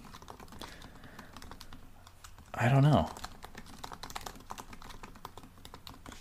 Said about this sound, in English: I'm looking it up right now if you hear me typing.